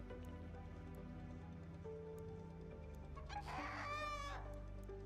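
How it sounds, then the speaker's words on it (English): A chicken in the video game Arc Raiders lets out a loud, clear crow-like clucking burst near the end, over a steady hum of game music and ambience. "Oh my god, there's a chicken."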